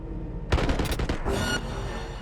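Gunfire in Cyberpunk 2077: a sudden burst of several rapid shots starting close and loud, followed by a short sustained blast, then a lower lingering rumble.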